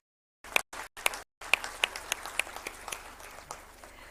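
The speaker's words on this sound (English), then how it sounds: "Can we have an applause for it?" Scattered applause from a modest crowd, starting in short bursts after a brief silence, then settling into sparse, uneven clapping that fades.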